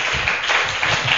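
Congregation clapping in a Filipino church service, a dense, steady patter of many hands held at a fairly even level through the whole short stretch.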